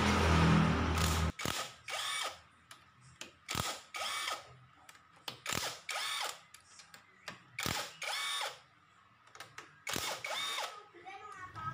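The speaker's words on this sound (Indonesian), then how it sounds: "Nah, kita lepas semua ini ya bautnya." Repeated ratchet wrench bursts loosening the clutch cover bolts on a Kawasaki Ninja R/RR motorcycle engine, close and loud, with short rapid clicking runs separated by brief pauses.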